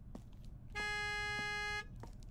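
A single long, steady car horn blast lasting about a second, loud and close, sounding at a gas station where staff refuel the cars, with quiet background noise before and after.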